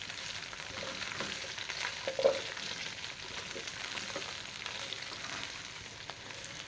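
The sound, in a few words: sautéing bell pepper and onion in a pan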